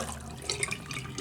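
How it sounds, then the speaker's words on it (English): Water from an American Standard faucet under very high pressure runs into a hotel bathroom sink, a steady hissing splash heard close and continuous for a moment. "Over here is an American Standard sink and faucet. Very high water pressure"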